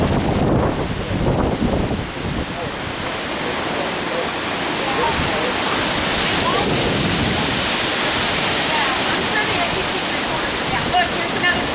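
Heavy rain sweeps in as a wall ahead of an EF4 tornado in Pleasant Grove, Alabama, a loud, dense, steady roar with wind buffeting the microphone, building after a brief opening stretch.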